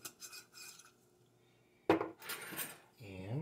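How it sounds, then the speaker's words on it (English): Spoon scraping and stirring organic curry powder into quinoa in a pot, a few soft clinks and rubs, followed by a voice talking. "And stir that in there."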